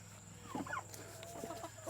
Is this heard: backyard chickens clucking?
yes